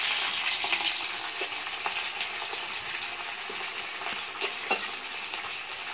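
Chopped onion hitting hot oil with bay leaf, dried chilli, whole garam masala and cumin for chicken kosha, a steady broad sizzle with occasional stirring scrapes, close and continuous.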